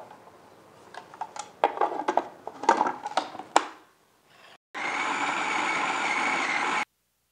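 An electric chopper machine grinds beef mince with small bread slices: a loud, steady whirring drone runs for about two seconds near the end, alone, after a stretch of clattery handling knocks.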